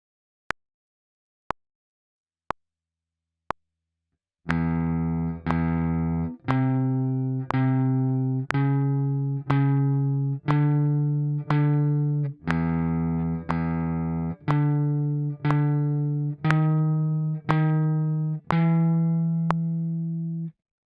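A few sharp single clicks, then a steady run of plucked guitar notes played one after another in an even rhythm, clear and close.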